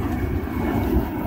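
Airplane near an airport passing overhead, a loud continuous low engine roar filling the whole moment with no other sounds.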